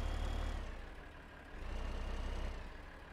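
In Farming Simulator 15, a tractor pulling a spreader gives a low, steady engine rumble that swells, dips and swells again, moderately quiet with no voices.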